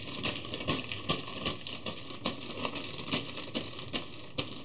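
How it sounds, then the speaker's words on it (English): A plastic bag rubbed in repeated strokes over short hair with the grain while brushing waves, giving a steady run of close, soft rustling swishes. "You rub a plastic bag like this, same way you brush, going with the grain of your hair."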